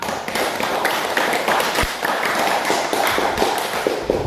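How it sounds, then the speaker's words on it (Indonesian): A class of students applauds after a group presentation on a cooling-system inspection, a continuous crowd of hand claps with sharp individual slaps standing out, steady throughout at moderate loudness. "Tepuk tangan semua."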